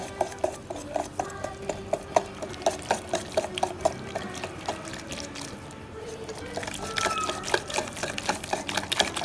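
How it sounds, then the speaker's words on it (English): Eggs being beaten little by little into a date mixture for a date and walnut cake, a steady rhythmic tapping and clinking of a utensil against the bowl, close and fairly quiet, with a thicker, busier patch of mixing toward the end. "beat the mixture well"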